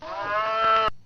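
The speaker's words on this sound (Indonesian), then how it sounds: "Nah, ini suara sapi." A single sustained cow moo from a played recording, clear and close, lasting just under a second before cutting off abruptly.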